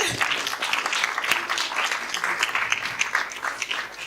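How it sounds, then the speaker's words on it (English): A conference audience applauds steadily at closing remarks, a dense wash of many hands clapping at moderate volume with no pauses. "Some round of applause, please."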